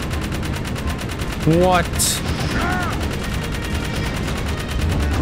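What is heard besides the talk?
turret gunfire in a video game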